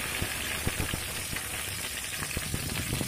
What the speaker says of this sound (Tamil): கூட கருவேப்பிலை சேர்த்து சின்ன வெங்காயம் சேர்த்து நல்லா வணக்கிக்கலாம்.